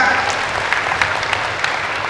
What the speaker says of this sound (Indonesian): tepuk tangan untuk Pak Polisi dan Pak Jaksa